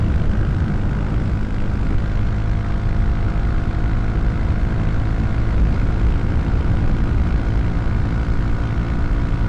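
A Honda Grom MSX125 motorcycle holds at speed in a steady, loud engine drone, with heavy wind rush and no pause or change in pitch throughout.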